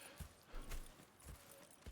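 Horse hooves clip-clop at a steady walking rhythm in Red Dead Redemption 2, several distinct hoofbeats close by and moderately loud.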